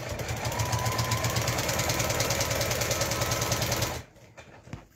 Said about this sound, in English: it's sewing over the sleeve at the top to keep it well in